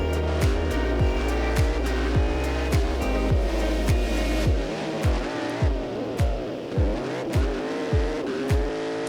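A track car's engine screams near its top speed, limited by gearing at about 140, holding a loud, sustained high-rev drone with rapid repeated gear or limiter pulses throughout.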